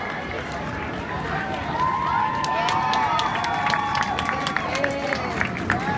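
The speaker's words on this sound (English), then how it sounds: "many people in line cheered." A crowd waiting in a roller coaster queue at Six Flags Great America cheers and claps as a coaster runs past, loud mixed whoops and shouts over a rushing track roar, with clapping growing toward the end.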